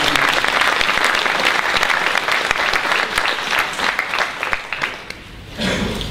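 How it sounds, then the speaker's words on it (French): A large audience at a political campaign launch for Olivier Gacquerre claps loudly and steadily in a dense, sustained wave of applause that thins toward the end, then swells briefly again. "Merci d'applaudir."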